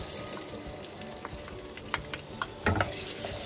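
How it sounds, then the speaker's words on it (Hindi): The white part of a green onion fries in a pan, giving a steady low sizzle with a few faint crackles and pops and one louder clatter near the end. Nobody speaks. "अब इसको हल्का सा फ्राई होने देंगे"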